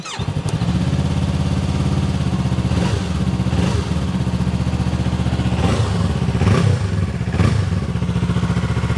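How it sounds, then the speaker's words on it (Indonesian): A Yamaha R25 2025 motorcycle engine meeting Euro 5+ rules idles steadily up close, a continuous even rumble with a few brief revs swelling over it, no talking. "Suara mesin Euro 5+ nih."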